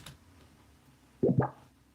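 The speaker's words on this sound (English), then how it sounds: "I have that bubble sound that's going on here." A synth bubble sound plays as two quick, quiet blips close together, sitting alone over a faint background hum.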